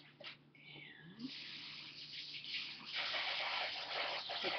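Tap water runs steadily over blueberries being rinsed in a kitchen sink, a continuous hiss that grows fuller and louder toward the end, with no one speaking.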